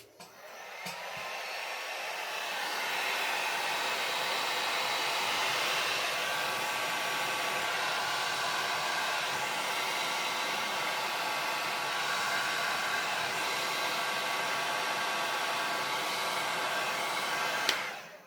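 A heat tool blows hot air onto paint as a steady, close, loud whoosh that runs without a break for about seventeen seconds, then cuts off with a click.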